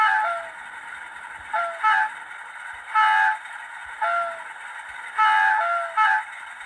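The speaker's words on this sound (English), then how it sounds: "Let's try out the horns. So horn function 1. No, function 2, but it's horn 1." Bachmann Class 45 model diesel locomotive with a DCC sound decoder sounds its horn in several short blasts, each a loud two-tone blare rising over a steady idling engine hum, with gaps between the blasts.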